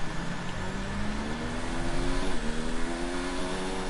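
Williams Formula 1 car engine in the F1 2019 racing game during a wet winter testing session, a steady droning whine that shifts pitch with a gear change midway, under rain-like hiss.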